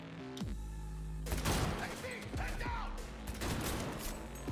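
Enemy gunfire rattles in Cyberpunk 2077 as rapid, overlapping shots crack in bursts close by after a brief tonal lead-in, loud and dense across the clip, with speech mixed underneath.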